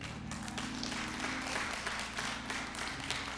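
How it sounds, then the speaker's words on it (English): A church congregation gives a sustained round of dense hand clapping during a worship service, a continuous crackling patter with no voices heard over it. "You ought to give yourself a hand clap for that."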